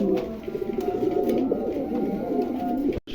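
Pigeons, including new adult birds at a pigeon sale, coo steadily in low, throaty murmurs, several birds overlapping close by, with a brief dropout near the end.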